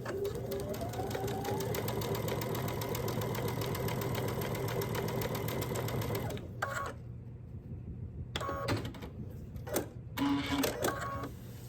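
Close and steady, a sewing machine stitches lines across a February door hanger for about six seconds, then stops, leaving quieter handling sounds and a couple of short machine bursts.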